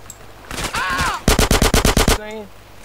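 Rapid automatic gunfire in the video game GTA San Andreas, a steady burst of about nine loud, evenly spaced shots, briefly preceded by a faint voice-like sound.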